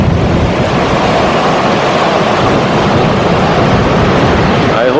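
Ocean surf rolls onto a beach at Baler, Aurora, Philippines, heard as a loud, continuous roaring wash heavily mixed with blustery wind buffeting the microphone.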